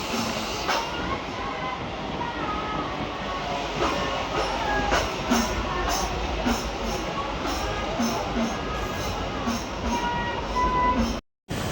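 The Malda Court to Siliguri DEMU passenger train runs with a steady broad rumble and faint rhythmic wheel clicks throughout, loud and continuous, with a brief dropout just before the end; a voice speaks faintly under the noise.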